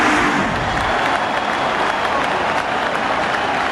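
A large crowd at a 2003 Cubs versus Marlins Game 7 baseball game applauds and cheers in a loud, continuous roar of clapping, with a commentator talking over it.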